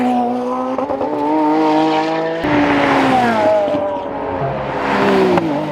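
Race car engine of a McLaren 720S, roughly 950 horsepower, on a hot lap at a track, holding a loud steady high-revving drone with clear engine harmonics that shift in pitch as it passes close by.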